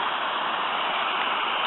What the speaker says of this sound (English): This stream has gained a bit of volume.